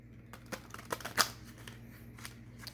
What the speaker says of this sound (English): So what I'm going to do is I'm going to shuffle these cards.